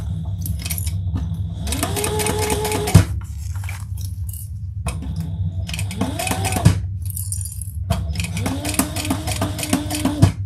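Sewing machine stitching through a leather bag in three rapid whirring runs separated by pauses, close and clear with clacks at the end of each run and no speech.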